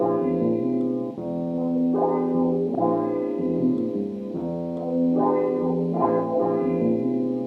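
A sustained, harmonically rich 1970s synth sample plays in slow swelling phrases, washed in reverb that smears each note into the next.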